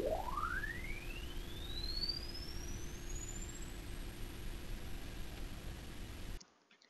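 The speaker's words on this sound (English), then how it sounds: "the system compresses the sound to the audible range, so we can also hear the sound after 20 kHz" An ultrasonic sweep compressed down into the audible range becomes a thin tone gliding steadily upward for about six seconds over a wash of low rumbling noise, then cuts off abruptly.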